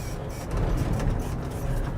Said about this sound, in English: that mud terrain tire has a little bit of road noise